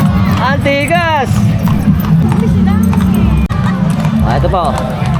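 Steady clip-clopping of horses' hooves during a horseback ride in Plaridel, Bulacan, heard under constant background chatter, with a few high tonal calls over the trot.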